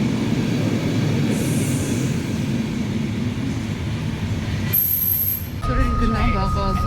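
A metro train pulls into a station with a steady loud rumble of wheels and motors, followed by a sharp high tone and a chime near the end.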